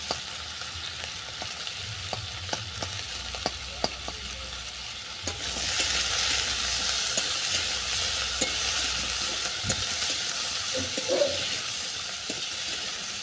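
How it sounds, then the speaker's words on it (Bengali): Cucumber stirred with ginger in a hot pan: soft scraping taps at first, then a steady close sizzle of frying that swells and holds, with occasional utensil knocks and no talking. "শসাটাকে আদার সঙ্গে নেড়ে রেখে দিয়ে দিলাম"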